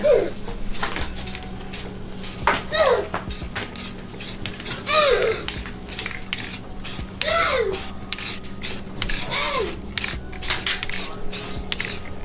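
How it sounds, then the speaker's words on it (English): Repeated short bursts of spray paint hissing in quick succession onto the edges of a wooden mirror frame, with a child babbling and adults talking nearby throughout. "So we're just spray painting the edges."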